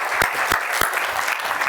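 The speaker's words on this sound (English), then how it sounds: "Everyone give them a round of applause." Audience applause at a fitness training session on rotational power, a steady wash of hand clapping that fills the whole moment with a few sharper individual claps standing out, loud and close.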